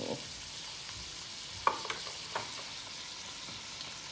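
Corn frying in a pan gives off a steady, close sizzling hiss, with a few soft clicks and light knocks from stirring near the middle.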